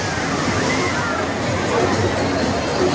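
Rough monsoon sea surges against Digha beach in stormy, rainy weather. A loud, unbroken wash of crashing and sloshing water fills the scene, with a voice over it.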